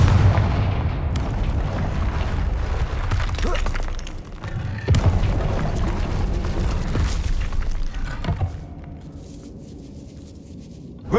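Confringo fire spell explosions in the Hogwarts Legacy video game, a dense run of booming, crackling blasts and thuds with bright bursts, a sharp break near four seconds, then fading to a quieter rumble before a final hit.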